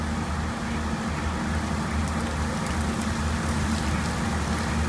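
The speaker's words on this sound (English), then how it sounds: "it is currently raining" Steady rain falls outdoors as a constant, even hiss of drops with a low rumble underneath, unbroken through the whole stretch and with no voices.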